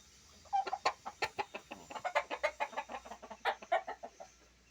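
A chicken clucks in a rapid run of short, rhythmic notes, close by, with no talking.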